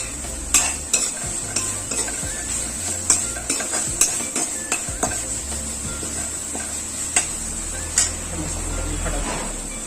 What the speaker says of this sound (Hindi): अब इसमें डाल देंगे हम काजू,